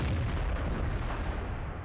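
Crusader SP self-propelled artillery firing in World of Tanks, a deep rumbling boom that rolls on for nearly two seconds with a low-heavy tail.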